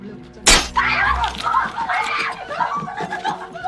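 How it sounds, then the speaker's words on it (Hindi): A mirror fixed to a closet door in a haunted house shatters with one sudden loud crash, followed by people talking and reacting with nervous laughter. "क्लोजेट पे लगा हुआ शीशा अपने आप टूट जाता है"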